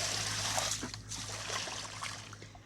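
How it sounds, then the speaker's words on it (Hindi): Water poured from a bucket at a tubewell, a steady splashing trickle with sloshing that runs continuously at moderate volume, with no talk over it. "तो 2 बाल्टी हमने इसके अंदर पानी की डाल दी हैं"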